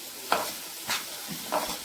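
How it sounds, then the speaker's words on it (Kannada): Tomato and brinjal fry on a hot tawa without oil or water, with soft sizzling and three quick stirring scrapes spaced evenly over a couple of seconds, heard close and quiet. "ಈಗ ಟೊಮೆಟೊ ಬದನೆಕಾಯಿ ಎಲ್ಲ ಫ್ರೈ ಮಾಡ್ಕೊಳ್ಳೋಣ"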